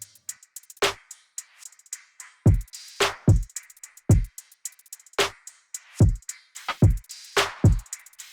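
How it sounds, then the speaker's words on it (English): A punchy drum loop with deep kick thumps, snappy snare hits and quick hi-hat ticks repeating in a steady groove, dry and upfront. "I will be using a drum loop and it sounds like this"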